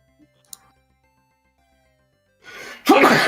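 A single sharp sneeze bursts out loudly near the end, preceded by a quick inhale, during a tabletop Commander card game at home.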